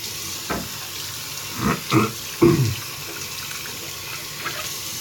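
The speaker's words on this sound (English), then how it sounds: "Rinse my hands real quick." Tap water runs into a sink while hands are rinsed, giving a soft steady stream with a few brief louder splashes in the middle, close and fairly quiet.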